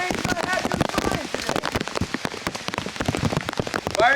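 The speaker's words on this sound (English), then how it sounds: "Looks like the rain's gonna have to be fine" Rain patters steadily on surfaces outdoors at an airsoft elimination game, dense crackling drops throughout, with people talking and shouting over it.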